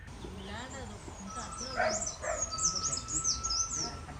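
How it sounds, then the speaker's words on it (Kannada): Several chirping bird calls ring out over a low background murmur, clustered in short bursts toward the end. "ಹಕ್ಕಿ ಕೂಗು"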